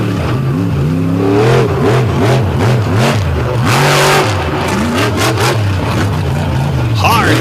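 A 540 cubic inch Chevy race car engine at a Lake Erie All Stars event revs loud and close, pitch climbing and falling in repeated surges, with an announcer talking over the roar.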